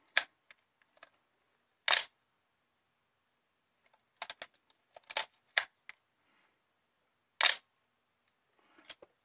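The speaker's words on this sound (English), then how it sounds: "click your shutter button, move it forward" A Nikon FG-20 35mm film camera being loaded, with sharp shutter clicks and film advance lever ratchets, several isolated close mechanical snaps spaced across a quiet room.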